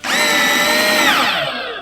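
A Bosch Professional 12V cordless drill drills into a workpiece clamped to a table, a loud close whine holding steady for over a second and then winding down as the trigger is released.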